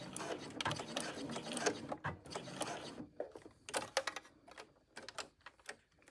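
A sewing machine stitches down the open side of a four-layer decorative connector strap on a tote bag, with the tension turned up. Bursts of rapid mechanical clatter start and stop several times, close and fairly loud.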